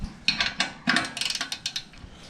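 Socket wrench clicking through a series of quick ratchet strokes while loosening an exhaust bracket on a Yamaha Bolt motorcycle, a close burst of sharp metallic ticks in uneven groups with no talking.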